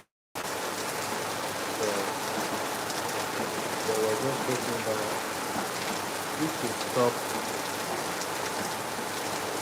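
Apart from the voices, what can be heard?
rain falling in Lagos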